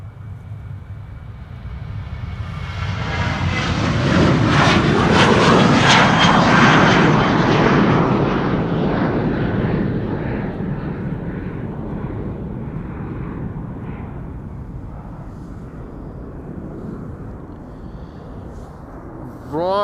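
PH-HXJ, a seven-year-old jet airliner, departs Amsterdam Schiphol with a thundering roar that builds quickly, peaks loud and close, then rumbles away into a fading tail. Brief voices come at the end.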